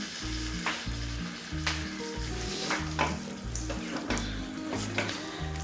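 A quarter cup of water goes into a pan of chicken curry on the stove, setting off a steady close sizzle and bubbling, with a regular low thudding pulse running underneath throughout.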